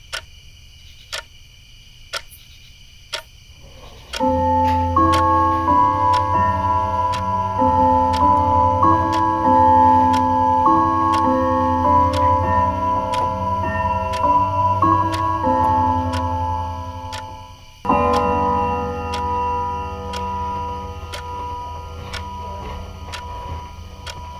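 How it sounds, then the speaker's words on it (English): A clock ticks steadily at an even pace, first alone in near silence, then continuing under sustained, layered musical tones that swell in and briefly cut out. "The clock ticks on."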